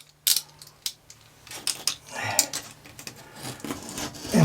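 A tool scrapes old caulk off a fiberglass RV shower in short, irregular rasping strokes, close and fairly quiet, with small knocks between them.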